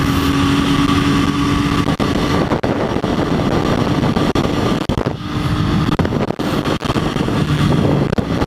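A motorcycle is ridden on a summer cruise, a steady loud engine drone with heavy wind buffeting the microphone throughout and brief dips where the throttle eases.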